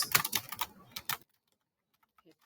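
A question is typed on a computer keyboard in a quick, close burst of clicky keystrokes lasting about a second, then the sound stops and near silence follows.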